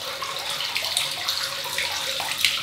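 Tap water running into a sink to warm a 1966 Gillette Super Speed flare-tip double-edge razor, a loud, steady, close rush of flowing water with a faint splashing texture throughout.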